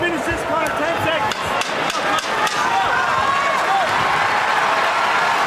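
A large UFC arena crowd roars and applauds steadily during a fight's closing seconds, with dense clapping and cheering filling the space. Some sharp thuds cut through the noise.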